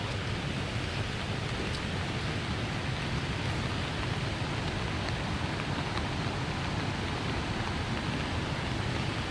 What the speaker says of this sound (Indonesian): Hujan 2 hari 2 malam ini gak pernah surut nih.